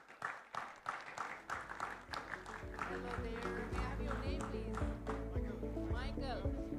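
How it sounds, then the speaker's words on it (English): An audience at a wellness and beauty expo claps briefly as a presenter is called to the stage. The claps soon fade beneath music and a voice over the PA. "One round of applause."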